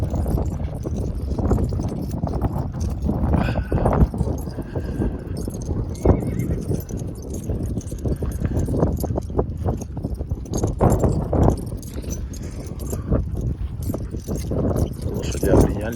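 A herd of horses, a Kulager group with young stock joined in, moves about with steady hoof clopping and repeated neighs and whinnies, close and continuous over a constant outdoor rumble, with a voice speaking now and then.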